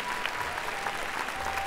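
Brief burst of audience clapping at an esports event in a large theater, a dense, even patter of many hands heard from some distance.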